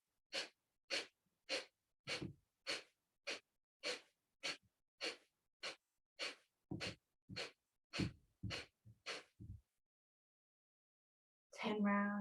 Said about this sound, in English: we're going to do a short, sharp burst exhalation with the inhalation coming in naturally